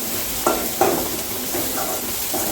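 Onions, chilli and asafoetida sautéing in a little oil, loud continuous sizzling close up with a few sharp stirring scrapes of a utensil against the pan.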